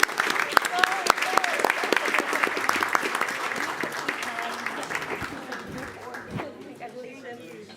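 A crowd at a Weslaco ISD school board meeting gives a round of applause for the fine arts director and teachers, sharp close claps and a few whoops that thin out toward the end.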